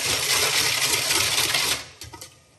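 Rapid whisking in a bowl, a dense fast rattling that runs steadily for nearly two seconds, then stops, leaving a few light clinks and a final tap, close and loud.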